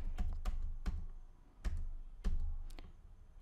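Someone types a dummy phone number on a computer keyboard, producing scattered soft key taps and clicks at an irregular pace, close but fairly quiet, with no speech.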